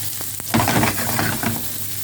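Whitefish dropped into a hot pan, a burst of close sizzling and frying that settles into a steady crackle, with a couple of light clicks just before.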